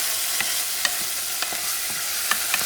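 Ingredients for Puerto Rican-style pink beans sizzle steadily in a pan, with a spoon scraping and clicking against it every half second or so, close and clear without any talk.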